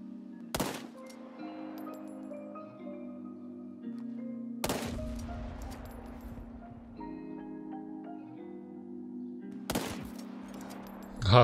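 Explosive shots in the video game World War 3 crack out three times at wide intervals, each a sharp loud blast with a rumbling tail, over a constant low electronic hum and tonal game background.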